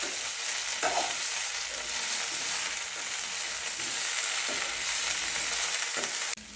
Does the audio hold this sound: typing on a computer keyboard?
no